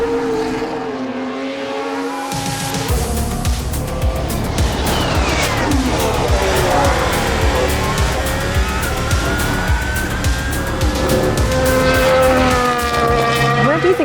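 A Haas Formula One car on hard tyres pulls out, its engine rising to a loud, continuous high-pitched whine with gear-change shifts, close at first and holding steady, with some voices mixed in.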